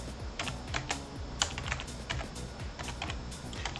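Rapid typing on a computer keyboard, close and clear, with irregular bursts of clicking keystrokes and no voices.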